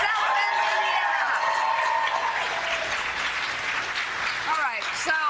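An audience applauds steadily for presidential candidate Pete Buttigieg on a morning TV show, the broad wash of clapping joined by a few whoops and cheers near the end.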